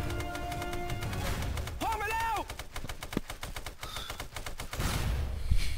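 Gunfire in the video game SOCOM 2, dense rapid shots and bursts running steadily throughout over game music and effects, with players talking over it.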